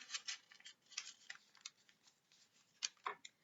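Scissors snip through folded paper along the crease for a bear craft, a quiet run of close, crisp cutting strokes and small rustles.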